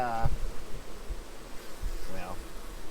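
Bees buzzing at a small nuc hive during queen release, a low droning hum close by with a few louder passes.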